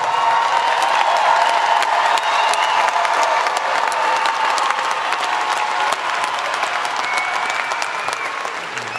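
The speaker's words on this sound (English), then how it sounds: "Please give them a big round of applause." A graduation audience bursts into sustained, dense applause, many hands clapping steadily and loudly for the full stretch, with a little crowd noise mixed in and a slight easing toward the end.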